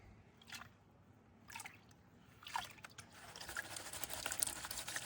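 Water sloshes and trickles in a gold pan as black sands are worked, starting with a few soft separate swishes and building into steadier, closer splashing and dripping toward the end.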